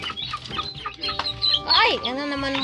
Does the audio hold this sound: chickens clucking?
yes